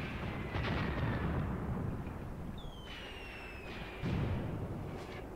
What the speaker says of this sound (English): my mortars are hitting